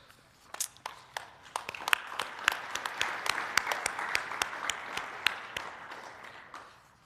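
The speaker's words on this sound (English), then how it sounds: "Does the applause get old, Sarah?" Audience applause at a basketball awards presentation, with many sharp separate claps rising into steady clapping across the room, then tapering off toward the end.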